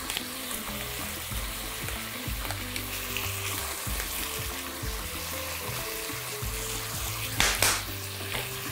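Beef pieces frying in a pan with spices such as cinnamon and dried thyme, a steady loud sizzle broken by scraping stirs, with a short clatter near the end.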